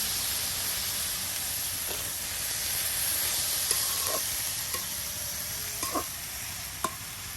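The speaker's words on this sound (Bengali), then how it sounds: "একদম আপনার পেঁয়াজ মরিচ তেলের সাথে কিন্তু এই শাকগুলি উলট পালট করে নেওয়া হচ্ছে।" Leafy greens are stir-fried with onion, chili and oil in a village kitchen, giving a steady, moderate sizzling hiss. A few faint scrapes and taps of the stirring utensil punctuate it.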